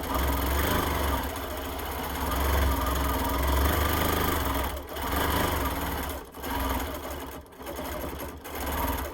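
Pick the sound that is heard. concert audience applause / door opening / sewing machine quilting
sewing machine quilting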